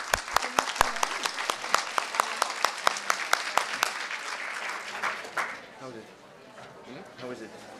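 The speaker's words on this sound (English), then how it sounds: "a round of applause again," An audience at a conference on the rights of the child gives a round of applause. Sharp claps stand out at first and then fade into a softer patter as people begin chatting nearby.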